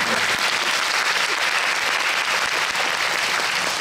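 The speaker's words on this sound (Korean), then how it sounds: "박수 한번 부탁드립니다" Loud, dense applause from a large audience at a film festival screening talk in Busan fills the whole stretch, steady and unbroken with no voices on top.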